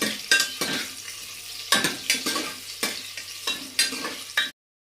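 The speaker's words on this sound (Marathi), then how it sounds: "कांद्याला आपण चांगलं परतून घेऊया" Onions sauté in a pan, with repeated stirring scrapes and knocks against the metal over a continuous sizzle.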